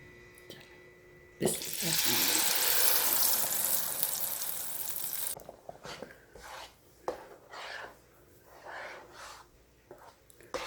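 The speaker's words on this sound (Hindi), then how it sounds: "अब हम सारे टमाटर ब्लेंड हुए हुए इसमें डाल देते हैं" Blended tomatoes poured into a hot pan for kabab in tomato sauce set off a sudden, loud, steady sizzle that lasts about four seconds, then gives way to quieter clinks and stirring noises.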